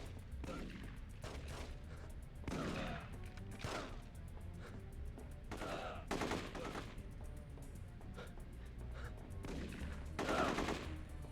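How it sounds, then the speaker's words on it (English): Gunfire in The Getaway video game, several bursts of shots rattling out at irregular intervals over steady background game noise, with no talk over it. "Let them shoot each other over there."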